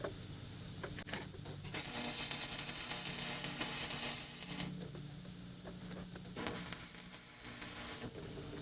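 Arc welding on thick steel with a welder converted from three-phase set to about 76 amps, producing loud crackling, frying bursts in several runs separated by short pauses.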